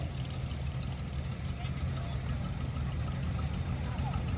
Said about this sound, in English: This is a John Deere 320, 1959 model.